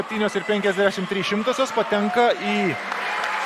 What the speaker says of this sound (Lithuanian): Aidi plojimai čia Rūtai.